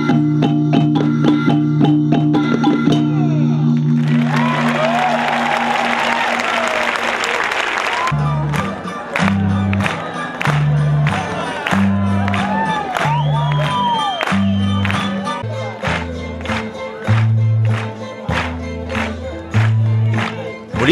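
Audience applause and cheering at a Filipino cultural performance and parade in Athens, Greece: a dense burst of clapping and whoops in the middle, set against loud, rhythmic stage music before and after.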